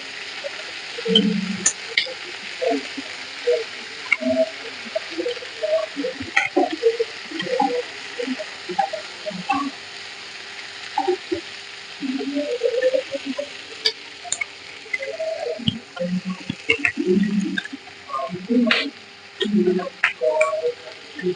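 Green chillies fry dhaba-style in a pan on a low flame, giving a steady soft sizzle broken by irregular small pops and crackles, close up with no talking.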